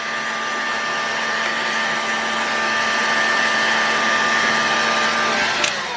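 Heat gun blowing hot air onto an aluminum engine crankcase of an OS 61SF model engine, a loud steady whooshing drone with a constant whine, close up and uninterrupted.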